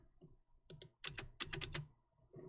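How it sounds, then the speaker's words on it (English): Typing on a computer keyboard, heard as two short bursts of quick, close clicking keystrokes with quiet gaps between them and no talking. "What's going on with my keyboard?"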